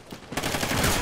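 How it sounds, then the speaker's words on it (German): Mounted gun turret firing in a video game: a dense, sustained burst of rapid gunfire that starts after a brief quiet lead-in and keeps going loud to the end, with no talk over it. "Stellen wir ein Geschütz auf."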